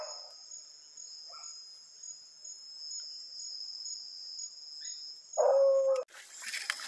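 Hunting dog Duque, tracking an armadillo near a marsh, gives a brief bark from some distance, heard over a steady, loud chirring of crickets.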